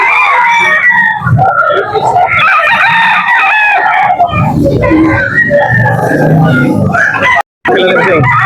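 Several roosters crow and cluck at close range at a Carbon market in Cebu, loud overlapping calls filling the scene while people talk nearby.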